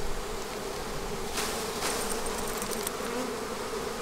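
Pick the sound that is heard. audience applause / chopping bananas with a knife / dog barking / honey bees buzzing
honey bees buzzing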